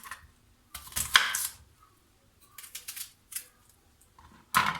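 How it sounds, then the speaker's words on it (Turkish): Knife slicing onions into rings on a cutting board while preparing oven-baked chicken with potatoes: a few close, crisp cuts in irregular bursts, separated by quiet pauses, with no voices. "Soğanlarımı halka şeklinde doğrayacağım."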